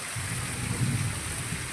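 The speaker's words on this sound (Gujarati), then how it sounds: "વરસાદ ચાલુ છે ને સાંજે તો એવો વરસાદ" Heavy rain pours steadily during the first rains of the season, a dense, even hiss with a low rumbling undertone, close and continuous with no voices.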